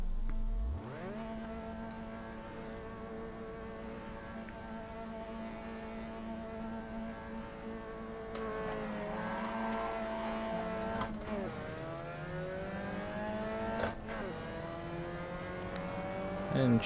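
Mazda MX5 Cup race car in Assetto Corsa, idling on the grid at Alastaro before rising into a whining rev, with a field of other cars droning nearby; fairly faint and steady.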